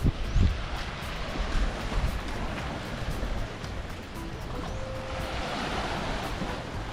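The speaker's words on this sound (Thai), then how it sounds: "ช่วงนี้น้ำทะเลหนุนจริงๆ มันจะแห้งไปถึงตรง โขดหินนั่นเลยอ่ะ" Sea surf rolls onto the sand at Puek Tian beach, a steady wash of waves with a faint rush of wind, no voices, continuous and moderately near.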